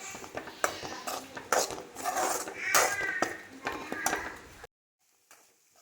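Cooked chopped chicken being stirred into pasta sauce in a pan, with a run of utensil scrapes and metallic clinks against the pan that stop abruptly into near silence.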